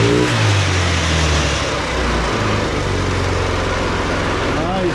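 A Tao Tao 50 scooter engine (also sold as the Tao Tao Pony / ATM 50) runs close by, idling steadily and then picking up in pitch as it is given a little gas, loud and continuous throughout.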